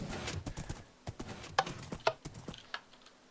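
Horse hooves in the Minecraft game clip-clop in a quick, close series of hollow knocks, with a few brighter clicks mixed in, briefly and without talk.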